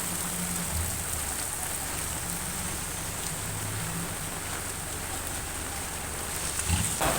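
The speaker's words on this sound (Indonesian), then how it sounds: "Dan ini cuaca masih hujan deras ya di kampung aku." Heavy rain pouring steadily in a village in the Sangihe Islands, Sulawesi, a dense constant hiss of drops on surfaces with faint low background rumbles underneath.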